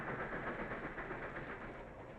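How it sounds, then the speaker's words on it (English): Passenger train with a powerful steam engine, a steady rumbling roll with faint rhythmic clatter, quiet and distant throughout. "and a powerful steam engine"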